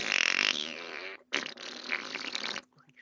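A voice makes a loud, sputtering fart-like noise in imitation of a banner ripping down in The Three Musketeers, a long raspy burst broken by a brief pause.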